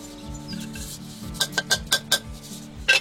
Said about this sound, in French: On va remuer le tout de façon à faire une pâte.